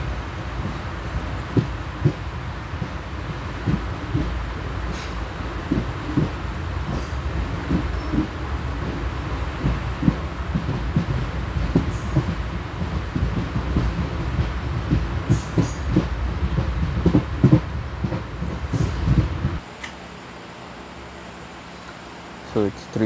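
The West Coast Express passenger train departing a station, a steady close rumble with rhythmic clickety-clack of wheels over rail joints and faint squeals, easing to a quieter hum near the end.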